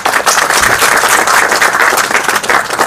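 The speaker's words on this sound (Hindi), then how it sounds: "वक्त आपकी तालियां होनी चाहिए।" An audience at an All India Mushaira poetry evening in Mysore breaks into steady, dense applause that fills the hall, loud and continuous with little talk over it.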